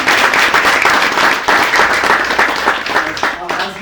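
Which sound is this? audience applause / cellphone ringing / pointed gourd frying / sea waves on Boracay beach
audience applause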